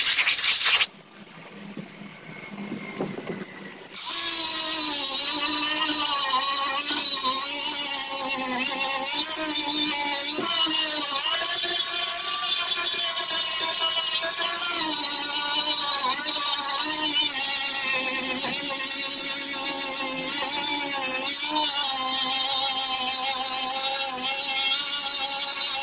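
Steady, loud scraping and rubbing of sanding on an 1986 Sea Ray boat hull runs continuously for most of the stretch after a brief quieter start, with a whining tool tone layered over the abrasive texture.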